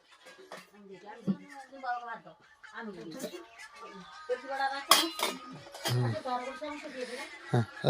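Spoons and dishes clink on a dining table at a family birthday gathering, scattered light clinks and clatter mixed in among close, lively conversation and a chuckle.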